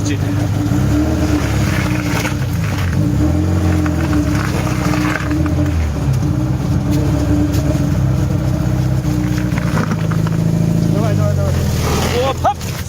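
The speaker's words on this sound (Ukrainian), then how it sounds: "Машина завелась" A car engine turns over and settles into a steady, loud idle that keeps running throughout, with a voice talking over it.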